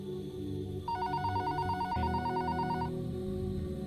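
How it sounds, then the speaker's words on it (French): A telephone rings in a neighbouring room of a Tokyo talent agency office, a steady electronic trill repeating for about two seconds, clear but set over a dense background of music and ambient sound. "Le téléphone de Fukuda sonne dans la pièce voisine."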